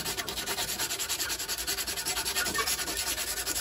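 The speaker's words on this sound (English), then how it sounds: "just going to give them a quick rub up with some emery" Emery cloth rubbed rapidly back and forth on thin-wall steel tube, making a steady rhythmic rasping stroke about every fifth of a second, close and loud with no talking.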